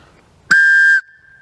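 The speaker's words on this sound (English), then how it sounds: "here I've got the Acme whistle, which sounds like something Wile E. Coyote would use" An old Acme whistle, about sixty years old and in good condition, gives one short, shrill blast lasting about half a second, fading to a faint lingering tone.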